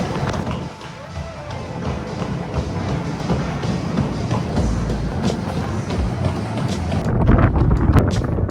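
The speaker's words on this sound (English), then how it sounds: "Windy one today." Wind roars steadily against the microphone during an outdoor run, a loud continuous low rumble with gusty surges, while a runner talks over it.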